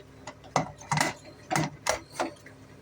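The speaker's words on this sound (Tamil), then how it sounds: "நம்ம குக்கர் போட்டு மூடிட்டு" A pressure cooker lid clicks and scrapes shut over simmering brinjal and drumstick kuzhambu, several short sharp metallic clacks and ratchety turns in quick succession, close by.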